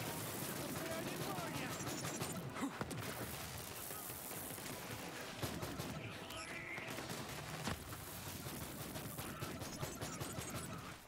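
Sustained automatic gunfire from a gun in Borderlands 3: a dense, rattling stream of shots that runs almost without pause, with a few louder bursts and crunching impacts, busy and close.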